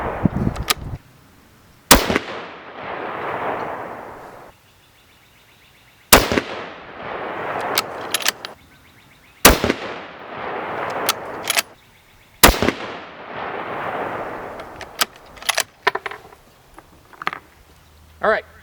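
A 6.5 Creedmoor rifle firing Hornady 123 gr ELD-M loads over IMR4350 powder, five sharp, loud gunshots a few seconds apart, each with a long decaying echo outdoors, with brief speech in between.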